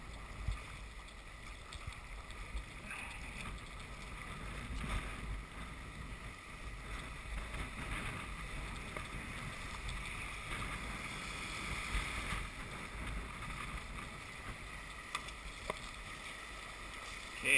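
Kayak paddling through choppy water in wind, a steady wash of water and gusting wind noise across the microphone, with faint splashes of strokes throughout and no voices.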